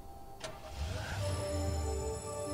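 A car in the Hotline Miami video game starts and pulls away, its mid-pitched engine rising to a steady drone that stays loud and close for a couple of seconds, with no voices.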